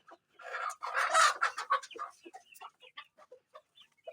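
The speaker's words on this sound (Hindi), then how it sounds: "ये चूजा घूम रहे हैं" Chicks clucking and chirping as they move around, a cluster of close, lively peeps and clucks that thins out into scattered faint calls.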